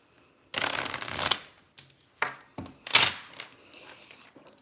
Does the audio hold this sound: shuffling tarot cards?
yes